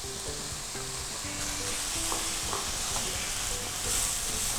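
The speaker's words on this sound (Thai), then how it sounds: "แล้วก็ผัดให้เข้ากันนะครับ" Vegetables and glass noodles are stir-fried in a pan for egg spring rolls, giving a steady close sizzle with soft scraping stirs throughout.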